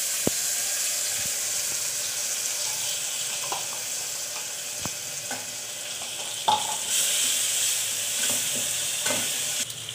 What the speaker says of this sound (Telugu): గ్రైండ్ చేసుకున్న మసాలాని పచ్చివాసన పోయేంత వరకు వేపుకోవాలి.